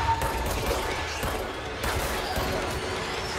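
Rapid bursts of gunfire in the video game Control, loud overlapping shots in quick succession with a short lull partway through before the firing resumes, set against an ongoing game soundscape.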